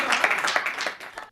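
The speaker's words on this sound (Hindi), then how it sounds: "जोरदार तालियां बजाकर भाई श्रवण गुप्ता को आमंत्रित करें।" Audience clapping at a Hindi comic poetry gathering, a short burst of brisk applause that cuts off abruptly after about a second.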